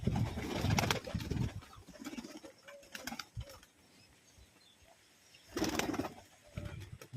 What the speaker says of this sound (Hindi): देखो इतने ज़्यादा कबूतर है आपके पास।